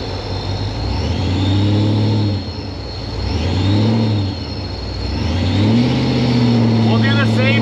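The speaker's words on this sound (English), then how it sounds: "Go back in the street and floor it in first gear" A car accelerates hard with the engine floored in first gear on a street, revving up in repeated surging pulls, loud and close, with a final strong climb toward the end.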